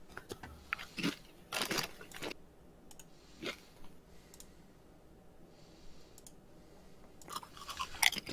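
A person chews Doritos chips close to the microphone, with several bursts of crunchy bites and chewing separated by quieter pauses, and no talking.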